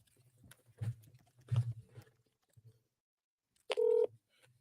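A few quiet taps and clicks of a phone being handled, followed by a short, loud electronic tone near the end as an outgoing call is placed, with no speech.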